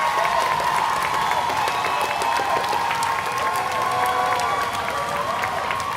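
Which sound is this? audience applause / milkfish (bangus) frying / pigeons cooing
audience applause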